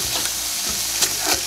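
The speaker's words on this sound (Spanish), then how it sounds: "Ahora sí, vamos a ponerle el orégano, la pimienta. Vamos a freír un instante." Oregano and pepper sizzle in a hot pan of oil for peanut-sauce chicken, a steady close frying hiss with a few brief spatula scrapes and stirs, no talking.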